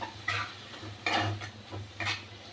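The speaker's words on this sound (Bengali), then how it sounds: "এবার নাড়বো" Bottle gourd leaves with shrimp being stirred in a pan, with three distinct scraping strokes of a utensil against the pan over a low, steady background hum.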